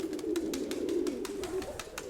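A pigeon coos in courtship, close by and alone. Soft, low, continuous cooing runs under faint repeated clicking.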